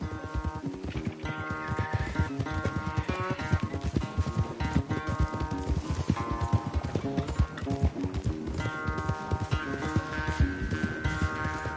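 Galloping horse hooves during a race in the video game Red Dead Redemption, a fast, continuous clatter of clip-clop beats heard under a steady musical score throughout.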